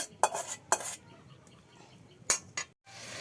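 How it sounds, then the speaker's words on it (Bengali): Fried tilapia pieces are turned into spice masala in a pan: a few sharp, separate scrapes and clinks of a utensil against the metal, with quiet pauses between them and no speech. "ভেজে রাখা মাছগুলো মশলার মধ্যে দিয়ে দিল। মাছগুলো সুন্দর করে কষানো লাগবে।"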